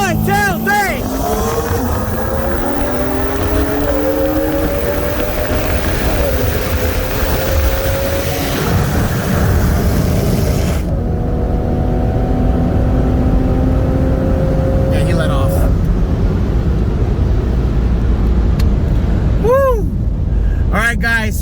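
BMW M4 CS on E30 fuel with bolt-ons and a stock-turbo BMW M340i on E85 running a 40 mph roll race, engines droning and rising through gears, the sound fading away after the shift and returning briefly, with people talking over it.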